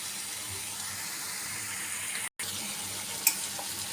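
Tilapia pieces sautéing with tomato in a pot, a steady low sizzle and bubbling hiss that carries on evenly throughout, broken by a brief dropout and a faint clink near the end.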